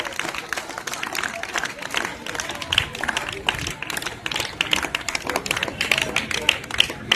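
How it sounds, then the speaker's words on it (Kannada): Applause for an honoree at a school award ceremony: dense, steady clapping from a crowd for the full seven seconds, with sharp hand-claps over a background of murmuring voices. "ಚಪ್ಪಾಳೆ ಮೂಲಕ ಅವರ ಒಂದು ಸನ್ಮಾನಕ್ಕೆ ಮುರಿದುಂಬಿಸಬೇಕು"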